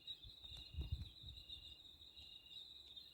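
A steady, high, shimmering drone of many crickets chirping together at night in Portugal, continuous and fairly faint, with a few low rumbles of movement nearby.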